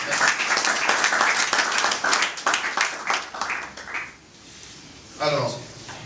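Audience applause at an investors' conference in 2018, a dense patter of clapping for roughly four seconds that thins out and fades, with a voice over it and a brief clatter near the end.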